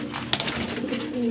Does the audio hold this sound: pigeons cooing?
yes